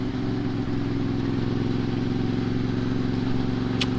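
Kawasaki ZX-4RR motorcycle with a 400cc inline-four engine running at a steady idle, a smooth, even buzzing drone held close and unchanging for the whole stretch, with no voices.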